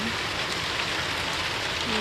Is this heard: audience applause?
no